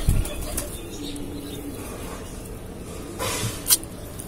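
A pigeon flaps its wings as it takes off from a coop of nesting birds. Quick, soft wing beats come at the start, then a short rustling flurry near the end, over a quiet background.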